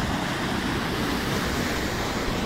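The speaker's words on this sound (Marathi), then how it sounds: "इथून पाणी सांडतंय थोडं" Water spills over Tarali dam in Satara, producing a steady, dense rushing wash that stays constant and fairly loud throughout, with no voices.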